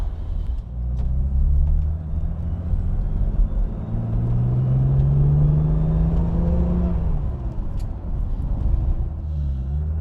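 A 1964 Aston Martin DB5's engine idles and revs steadily nearby, a smooth rumbling drone rising in pitch midway before settling back down.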